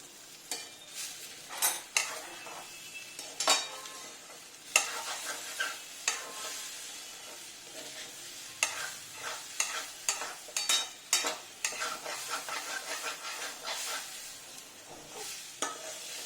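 Chopped garlic fries in ghee while being stirred in a pan. Close, repeated scraping and clinking strokes come in irregular bursts over a steady sizzle, and no one speaks.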